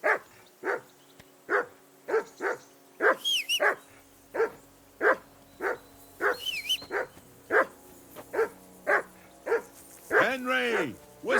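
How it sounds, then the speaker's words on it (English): In Kingdom Come: Deliverance II, a dog keeps barking in a steady string of close, sharp barks while people talk in the game over and between them. "whistle at that mutt of yours to stop barking"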